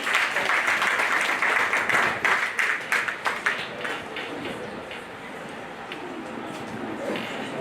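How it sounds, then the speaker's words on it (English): An audience at a university public relations and communications conference gives a round of applause that is dense at first, then thins out and fades after a few seconds into room noise. "Please everyone round of applause."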